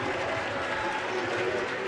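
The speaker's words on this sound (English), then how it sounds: "Kagiso Ngwechana getting the applause from the crowd here in the background." A basketball crowd applauding steadily throughout, a dense, even wash of clapping from the stands at a qualifier between the Tshwane Suns and Cape Town Tigers.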